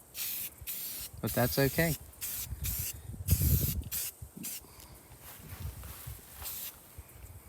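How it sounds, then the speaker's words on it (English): Short hissing bursts of aerosol spray paint at a racetrack, several quick sprays close by with brief pauses between, alongside a voice and some shuffling. "a little aerosol paint"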